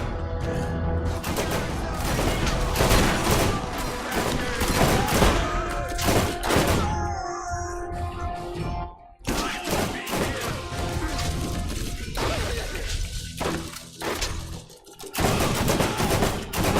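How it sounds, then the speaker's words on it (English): Light machine gun fire in the Borderlands video game, loud sustained bursts of rapid automatic shots with brief pauses between volleys, over game music. "Oh, it's like an LMG."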